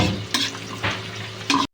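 Onion and garlic sizzle in margarine in a pan, a close, steady frying hiss broken by a few scraping stirs before it stops abruptly.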